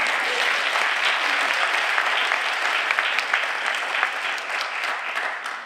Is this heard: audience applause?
yes